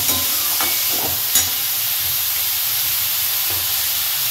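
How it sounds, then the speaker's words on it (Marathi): Finely chopped onion sautéing in a pan, giving a steady close hiss and sizzle throughout with a few faint stirring clicks, no voices. "आणि कांदा जोपर्यंत लाल होत नाही तोपर्यंत आपल्याला परतीत राहायचं आहे कांदा।"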